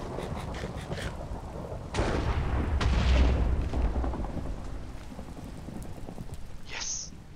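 A thunderstorm with heavy rain in the Minecraft video game: a continuous rush of rain, a loud rolling thunder crash swelling after about two seconds and fading, then a short sharp sound near the end.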